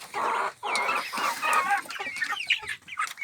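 Kazakh chickens and a rooster clucking close by in a farmyard coop, a steady overlapping stream of hen calls with a few higher, sharper rooster-like notes breaking through.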